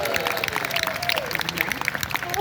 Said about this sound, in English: thank you so much for clapping